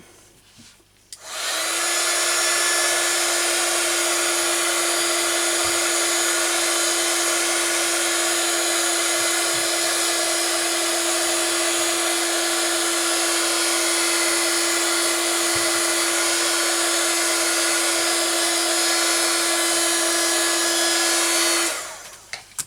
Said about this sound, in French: alors je vais sécher légèrement au pistolet chauffant